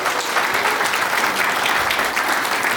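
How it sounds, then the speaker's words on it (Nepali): Wedding guests clap together at a church marriage ceremony, a dense, steady round of applause that keeps going at an even level with no talk over it. "ताली बजाइदिनु सबैजनाले"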